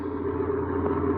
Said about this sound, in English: a truck and trailer pushing steadily westward toward El Paso